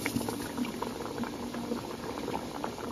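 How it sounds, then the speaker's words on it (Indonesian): Water boils steadily in a preheated steamer pot for making banana sponge cake, giving a close, continuous bubbling and gurgling with small pops and no talking. "Sebelumnya aku sudah panaskan kukusan dan ini airnya sudah mendidih."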